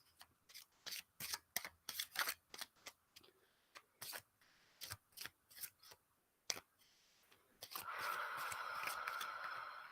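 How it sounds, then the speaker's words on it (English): A Gypsy Tattoo card deck is shuffled by hand in a string of sharp riffling bursts and snaps with short pauses between, close and quiet, ending with a softer continuous rustle. "So let me shuffle and pull"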